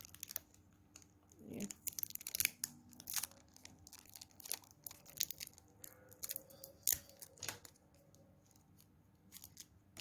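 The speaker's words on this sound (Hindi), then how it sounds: "अभी मैं इसको टेप लगा रही हूँ।" Tape being applied to a homemade birthday decoration, with scattered close rips, crinkles and snips in quick irregular bursts, fairly quiet and with no voices.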